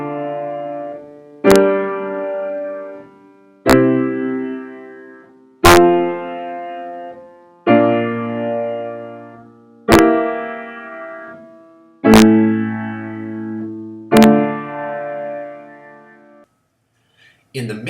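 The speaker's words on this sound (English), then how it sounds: "we would simply run it through the circle of fifths progression as we would normally part write it." Subtonic chords in a minor-key circle of fifths progression, played as seven separate struck chords at an even pace, each ringing and decaying before the next, with a brief pause before a final attack.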